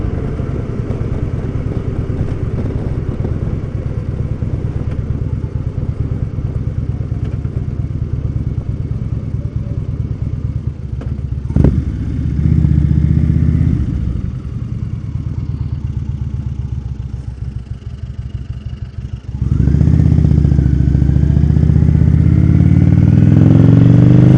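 An Indian Roadmaster air-cooled motorcycle rumbles loud and steady while riding on a highway, its deep engine drone and wind noise continuous, briefly easing off before the revs climb again in a louder pull.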